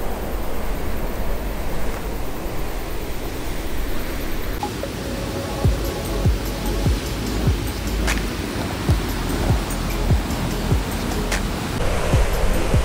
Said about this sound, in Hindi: ये 7 मीटर लॉन्ग वाटरफॉल है